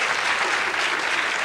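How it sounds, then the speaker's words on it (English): An audience claps and cheers together, a dense sustained burst of applause from a sizable crowd filling the short moment with no pause. "And they all cheer."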